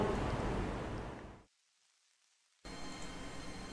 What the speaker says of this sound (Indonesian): Selasa siang Kabupaten Kota Waringin Timur akhirnya diguyur hujan deras